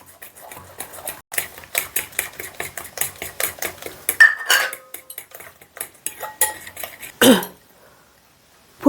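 Thick batter for cauliflower 65 being mixed in a bowl, giving a steady run of close, sharp utensil clinks and scrapes, with a louder clatter near the end and no talking.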